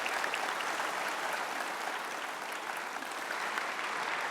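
A television studio audience gives warm, continuous applause for a senior actor, an even patter of many clapping hands throughout with no talk over it.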